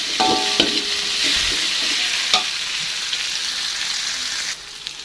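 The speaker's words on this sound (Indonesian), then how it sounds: "Kita tumis sampai bumbunya benar-benar matang ya teman-teman" Spice paste sautéing in a pan with a dense, even sizzle, punctuated early by metallic clinks and scrapes of a spatula and one sharper knock midway, fading slightly at the end.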